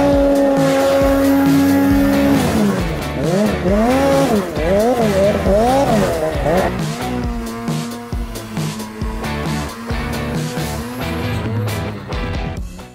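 A snowmobile engine drones loud and close while riding through remote snowy terrain, its pitch rising and falling in repeated revving sweeps before settling into a steadier roar.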